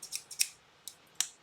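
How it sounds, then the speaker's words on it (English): Scissors cut paper in a few quick, faint, close snips, spaced irregularly over a quiet background. "So I'm trying to cut some of this stuff up a little bit."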